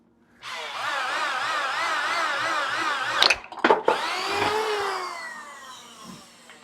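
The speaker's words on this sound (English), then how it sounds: "Now we're going to drill this one and then we're done drilling." A power drill whines loudly and steadily into wood with a non-wood bit, then stutters through a few sharp bursts before spinning back up and trailing off.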